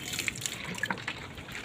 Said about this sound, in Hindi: इसको पानी डाल देते हैं थोड़ा सा